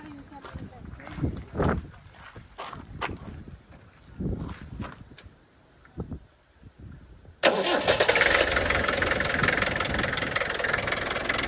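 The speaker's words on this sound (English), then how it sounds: "I'll start it off. You can hear it." After some handling noises and brief voices, a 1986 Land Rover 110 2.5 diesel engine cranks and catches, settling into a loud, steady diesel idle close by.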